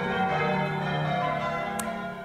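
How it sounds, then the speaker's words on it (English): Church bells ringing steadily, a rich sustained peal with layered tones that hangs in the air throughout, loud and fairly close. "The bells are still rung regularly and they make a fine sound."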